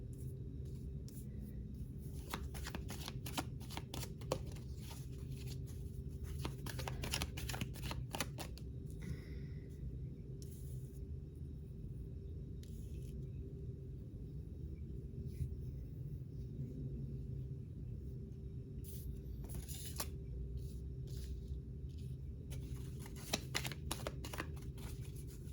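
Tarot cards shuffled by hand, repeated soft riffling and sliding bursts in irregular clusters over a steady low background hum, no talk.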